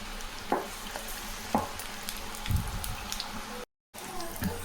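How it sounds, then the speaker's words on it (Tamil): Market-stall style bonda batter fries in well-heated oil with a continuous sizzle and a few soft bubbling bumps. The sizzle cuts out for a split second, then resumes. "எண்ணெய் நல்லா காஞ்சிடுச்சு, போண்டா போட்டுக்கலாம்."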